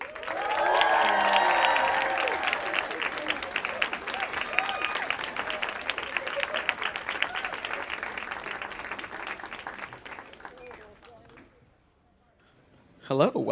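A television studio audience applauds and cheers as the True Blood stars Anna Paquin and Stephen Moyer walk out. The clapping is loud at first and then tapers off, and voices and music run through it.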